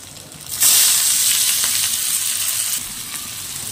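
Onion lands in hot oil in a pan for ghugni with a sudden loud hiss that stays strong and steady, then eases a little as it is stirred.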